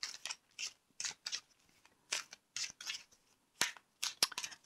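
Oracle cards are shuffled and drawn from a deck, a series of crisp, close papery flicks and slides in irregular quick bursts, quiet and with no talk.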